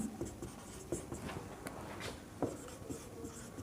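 A pen scratches across paper while a math problem is written out, with soft, steady strokes and occasional light taps, close and quiet, with no one talking.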